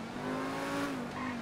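A sustained tire squeal from a car skidding and spinning out in GTA V Online during a modified T20 race at the Los Santos airport, a steady high-pitched screech over engine drone, fairly faint and uninterrupted.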